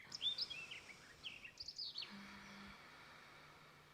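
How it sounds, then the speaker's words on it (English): Several birds chirp and twitter outdoors, faint and somewhat distant, quick bursts of song over a quiet background. "There's a proper chorus of birds here on my background."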